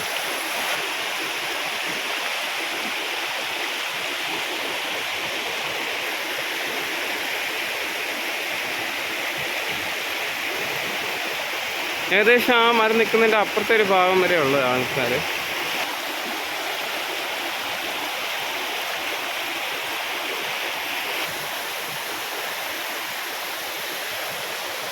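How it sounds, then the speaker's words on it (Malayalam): Flowing water at Vadattupara waterfall in Kothamangalam keeps up a steady, broad rushing hiss throughout, while someone talks briefly partway through over the constant roar. "ഇതാണ് വെള്ളച്ചാട്ടത്തിൻ്റെ ഇപ്പോൾ ഒരു ഇച്ചിരി താഴെയുള്ള ഒരു ഭാഗമാണ്"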